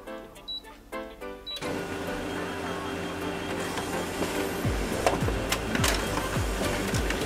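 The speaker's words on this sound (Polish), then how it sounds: "Testuję teraz wydruk, czyli w jaki sposób drukarka pobiera papier" Canon LBP253X laser printer running a test print after a pickup roller replacement, whirring and clattering steadily as it feeds paper, preceded by a few short mechanical clicks.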